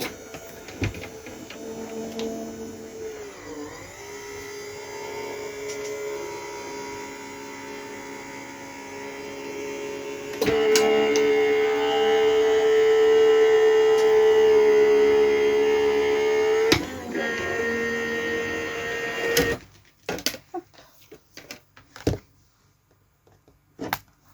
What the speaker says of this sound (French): ici je mets en sandwich et ça dans ma machine puisque moi mon épaule me permet pas de faire avec la manuelle